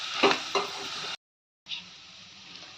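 Garam masala and salt are stirred into boti curry in a pan, with close scraping and a gentle sizzle, a sudden moment of silence, and then soft stirring again.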